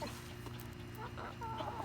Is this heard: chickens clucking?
yes